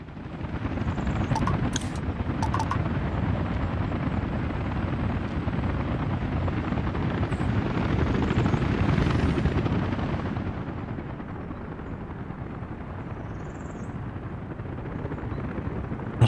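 A helicopter in Workers & Resources: Soviet Republic gives a continuous close rotor thump and engine drone that holds steady throughout, with a few faint interface clicks on top.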